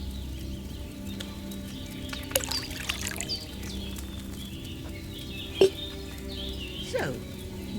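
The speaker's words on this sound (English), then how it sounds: "So, what did you pour in there? Wine, of course." Wine poured into a cauldron in a medieval castle-themed video game, a soft, quiet liquid trickle under low ambient background hum, broken by a few faint clicks and taps.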